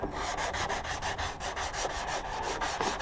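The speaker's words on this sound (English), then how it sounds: "So here we go, let's give it an initial rub." Honda NT700 motorcycle bodywork is rubbed down by hand with a pad, making close, rhythmic scratchy strokes in a steady back-and-forth pattern with no talk.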